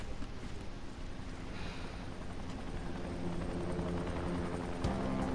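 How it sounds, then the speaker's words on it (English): A helicopter flies in the video game Dying Light, giving a dense, continuous whooshing rotor roar that stays steady and moderately loud throughout, with no voices over it. "Now there's a helicopter."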